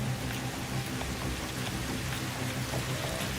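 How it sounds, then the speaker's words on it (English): Steady rain falls outside a house, a continuous even hiss of drops at moderate level with no gaps and no voices. "I got rain outside my house"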